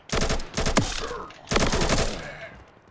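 Rapid automatic weapon fire in a shooter video game, two dense bursts of shots about a second apart, loud and close.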